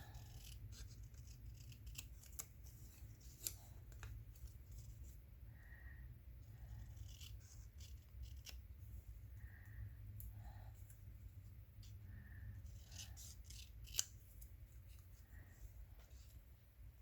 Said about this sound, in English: let's cut it up